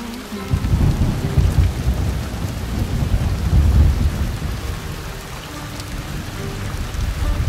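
Steady heavy rain pours in Shadow Tactics: Blades of the Shogun while low rolling thunder rumbles through it, loud and continuous, without voices.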